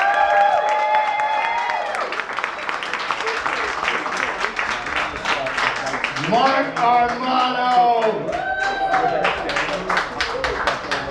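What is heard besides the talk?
audience cheering and applauding comedian at live show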